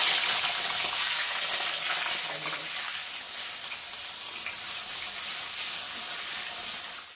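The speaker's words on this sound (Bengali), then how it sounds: "আমি দেখো পনিরগুলো একদম হালকা করে একটু ভেজে নেব" Paneer pieces frying lightly in hot oil, a steady broadband sizzle holding close and fairly loud for several seconds before cutting off, with no talk.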